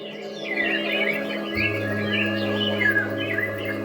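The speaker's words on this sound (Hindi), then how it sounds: "चिड़िया चहक रही है, कोयल बोल रही है।" Birds chirp and a koel calls in a garden, a run of bright tweets and rising whistled notes over a steady low hum, fairly close and continuous with no talking.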